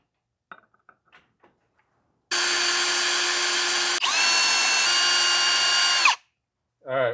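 A power drill bores holes in small metal plates with a 4.2 mm bit, after a few light taps and clicks, with one close, steady high-pitched whir that briefly pauses and resumes before stopping, followed by a short hum.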